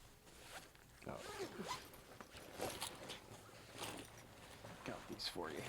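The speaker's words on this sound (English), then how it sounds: "If I can find the zipper on this thing." A zipper on a bag is pulled open in several short rasping strokes, close and fairly quiet, with faint background room noise and no clear talk.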